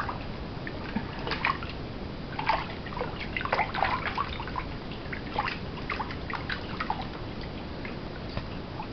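Water splashing and trickling during a small child's bath, a continuous low wash of liquid with frequent light splashes and drips, close and fairly quiet, with no talk.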